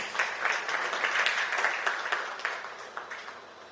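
An audience claps for the World Bank country manager arriving to speak at a formal event, a thick wash of applause that gradually thins and fades toward the end.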